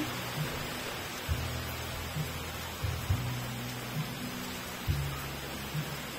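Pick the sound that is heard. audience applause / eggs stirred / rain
rain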